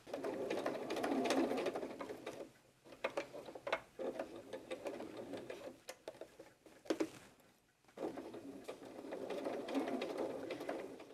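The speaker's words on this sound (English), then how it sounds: "So you want to sew them and make sure that the feet are pointed onto the back." Sewing machine stitching doll legs, a close rapid mechanical whirring in bursts with short pauses between runs, fairly quiet and with no talk.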